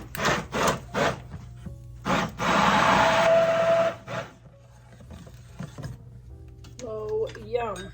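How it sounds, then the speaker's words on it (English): Tomatoes and onions are ground in a kitchen grinder: several short pulsed bursts, then one longer run of about two seconds, close and fairly loud, followed by quieter clinks and a brief voice near the end. "I'm going to grind up all of my tomatoes and onions"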